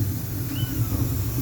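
A black cat gives a single faint, short meow over a steady background hum.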